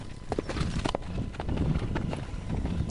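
A horse's hooves clop in an uneven walking rhythm on the ground, close by and moderately loud, mixed with light rustling and outdoor background noise.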